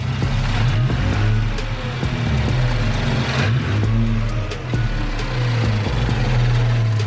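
A 2017 Infiniti Q50s fitted with HKS blow-off valves revs loudly up close, its engine note rising and falling through repeated throttle blips with a steady low rumble underneath.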